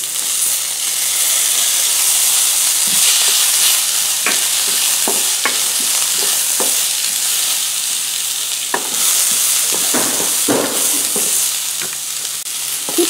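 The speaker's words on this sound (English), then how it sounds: "Now we add our garlic and onion." Garlic and onion sauté in a pan for a fenugreek curry, giving a loud, steady sizzle throughout with a few scraping stirs near the end.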